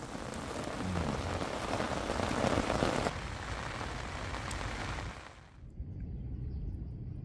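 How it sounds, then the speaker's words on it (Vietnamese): Steady, heavy rain pours down in a dense hiss for several seconds, then eases briefly before continuing, with no voices. "Mưa quá."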